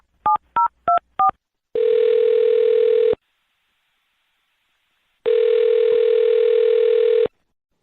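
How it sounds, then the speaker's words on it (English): A phone number is punched in as four short dual-tone key beeps, followed by two long steady ringback tones separated by a pause, clear and close with no talking. "I'm going to dial their phone number right now"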